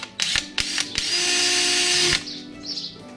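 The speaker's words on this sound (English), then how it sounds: "So again, hold it in position, drill a hole." A power drill whirs in a few short bursts, then runs steadily for over a second before stopping, close and loud with a ratcheting tone, drilling a hole in a kayak to fit an anchor trolley.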